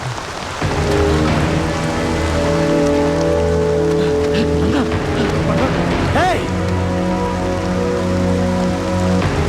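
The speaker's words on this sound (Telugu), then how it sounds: "వర్షం బాగా కురుస్తుంది" Steady heavy rain pours throughout, a dense hiss with drops pattering on a surface, while a voice and tonal background sounds run over it.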